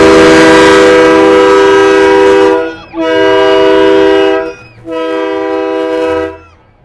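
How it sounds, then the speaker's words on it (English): Loud, sustained air horns blare in three long blasts with short breaks between, harsh and very close, at a Christmas parade in Olivehurst. "You'd think somebody likes air horns or something."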